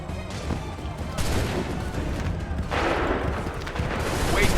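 Musket volleys ring out in an Assassin's Creed 3 battle scene as loud, rolling bursts of massed gunfire, one volley following another in dense, crackling waves.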